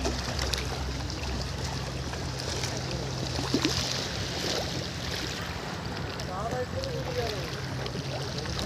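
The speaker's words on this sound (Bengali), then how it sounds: "আর নদীর ঢেউয়ের সাউন্ডটা শুনুন।" River waves at Diamond Harbour lap and wash in a steady broad rush outdoors, with a low engine drone from passing boats underneath and brief faint background sounds.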